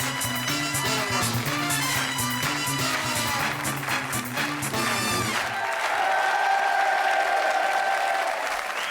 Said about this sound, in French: On applaudit très très fort Jean-François